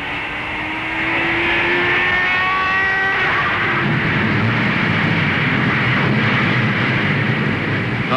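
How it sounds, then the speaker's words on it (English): Thirty-three race cars roll away from the starting line at the 1960 Indianapolis 500: a broad, distant roar swells after a moment and holds steady and full, with a faint rising tone early on. "The fastest 33 cars ever to race anywhere, anytime, roll away from the starting line."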